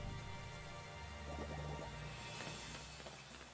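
Rain falls in the Pokémon Shield video game, a soft continuous patter of raindrops with faint low rumbling underneath, quiet throughout.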